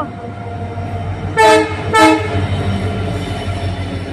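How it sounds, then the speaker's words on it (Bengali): A passenger train pulls into a crowded station behind a steady rumble of wheels and engine. Two loud, short horn blasts ring out close by in quick succession. "ট্রেন ঢুকে গেল।"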